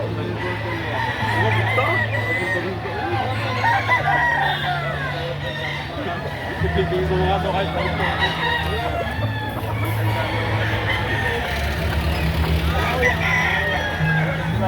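Roosters crow and hens cluck amid a noisy, crowded outdoor chicken market in Lipa, Batangas, with a steady low hum and indistinct voices underneath.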